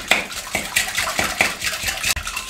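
A spoon briskly mixing salt and baking powder in a bowl for egg roll batter, with repeated close scraping and clinking strokes against the bowl's sides in an even rhythm.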